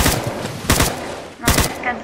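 Three sharp gunshots from a Minecraft gun mod sound close and loud, spaced irregularly within two seconds, with a faint voice in the background.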